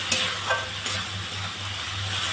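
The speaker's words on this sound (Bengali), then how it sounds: "আমি অল্প করে একটু জল দিয়ে দেবো, দিয়ে এটা কষিয়ে নেব।" Bengali-style spicy crab curry masala sautéed over low gas in a pan, a close, steady sizzle with a spatula scraping and stirring through the thick masala.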